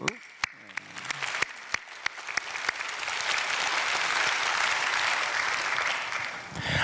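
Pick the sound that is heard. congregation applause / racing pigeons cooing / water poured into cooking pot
congregation applause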